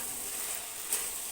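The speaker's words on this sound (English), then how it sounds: "As I stir, you can see the tomatoes they're like disappearing into the sauce." Tomato meat sauce stirred in a pan while cooking for a family dinner, giving a steady soft hiss with faint sizzling and a single brief scrape near the end.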